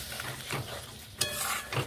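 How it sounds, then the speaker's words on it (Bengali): Beans stirred in a pan with a little water, a soft, quiet wet scraping with a few brief knocks of the spoon against the pan, no voices. "খুব অল্প পরিমাণ জল দিয়ে একটুখানি এইভাবে নেড়ে নিচ্ছি"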